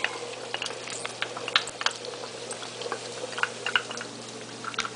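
Chopped garlic frying in grapeseed oil gives a steady close sizzle with scattered pops and crackles, moderately loud and running alone without talk.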